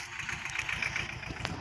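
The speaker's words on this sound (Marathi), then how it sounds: "हे बघा हे ट्रॅक्टर" A tractor engine idles out on a farm under a tree, a low, steady chugging rumble with an even pulsing rhythm, moderately close and heard on its own without talk.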